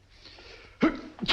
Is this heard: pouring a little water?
no